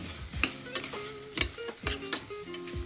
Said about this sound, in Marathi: सगळं छान सारखं हलवून घ्यायचं आणि चांगलं परतवून घ्यायचं हे सगळं